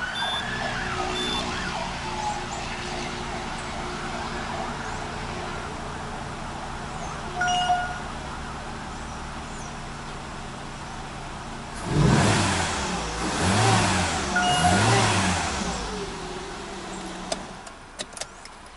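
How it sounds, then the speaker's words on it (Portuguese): A Citroen C3 with a rotten head gasket idles steadily after starting on the first try, a constant low engine hum with a louder, rougher burst partway through. "E o carro pegou de primeira."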